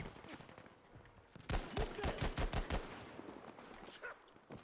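A weapon in the video game Battlefield 5 fires a rapid burst of about ten loud, closely spaced shots lasting just over a second, framed by quieter battlefield noise before and after.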